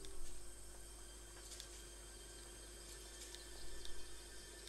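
Steady rushing water of a waterfall in the video game Spirit of the North, a constant broadband wash with faint chimes and soft game tones on top.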